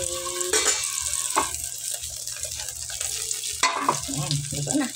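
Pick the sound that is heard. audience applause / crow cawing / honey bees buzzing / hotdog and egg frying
hotdog and egg frying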